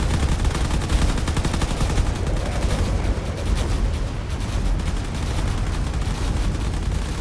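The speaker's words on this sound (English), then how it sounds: "all these remaining turrets are trying their best to take out the corvette up there" Sustained rapid gunfire from video game turrets shooting at a corvette, a dense continuous rattle of shots with no pauses, loud and close throughout.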